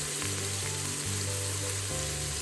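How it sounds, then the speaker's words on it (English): Chopped ginger and garlic sizzle steadily in a hot pan, a continuous close crackle of frying that holds for the whole stretch with no talk over it. "Now I am adding chopped ginger and garlic."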